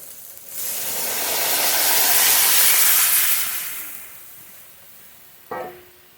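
Lentils for a matar dal poured into a pan of fried spice paste with salt and turmeric, a loud rising hiss and sizzle that swells for a few seconds and fades, ending with a short clatter.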